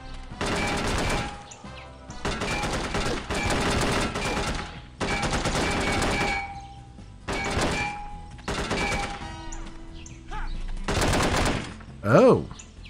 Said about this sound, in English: Who's shooting? And from where?